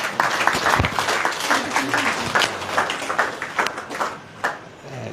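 A crowd at an International Yoga Day ceremony breaks into sustained, energetic applause, many hands clapping at once with a few sharper individual claps standing out.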